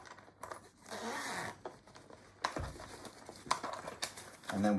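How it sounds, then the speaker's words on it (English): Zipper on a Joolz stroller seat cover being unzipped by hand, heard as several rough rasping pulls with fabric rustling and small clicks in between, close and fairly quiet. "We'll want to unzip."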